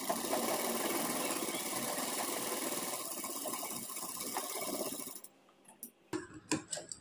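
A sewing machine runs fast and steady, stitching a women's trouser pocket, a loud continuous whirring motor for about five seconds before it stops, then a few scattered clicks and handling taps.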